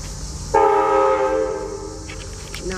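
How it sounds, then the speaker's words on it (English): A train sounds a long, loud horn blast near a creek, the sustained tone starting abruptly and holding steadily before tapering slightly toward the end, with outdoor background hiss underneath. "that train scared the living crap out of me"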